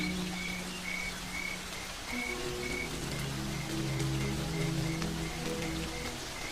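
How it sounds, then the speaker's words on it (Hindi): Sudden heavy rain pours over the Serengeti plains, a dense, steady hiss of drops with faint chirping and whistling creatures mixed in throughout. "इस तरह अचानक मूसलाधार बारिश होना अजीब है"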